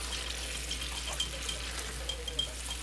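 Water runs steadily into a cooking pot, a soft continuous pouring rush with faint clinks.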